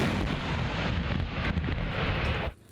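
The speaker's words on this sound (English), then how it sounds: "this Syrian artillery position is targeting retreating jihadists as well as covering the advance of Syrian troops" A Syrian artillery position fires near Morek, producing a sustained loud roaring rumble of gunfire and blast that cuts off abruptly at the end, with wind buffeting the microphone.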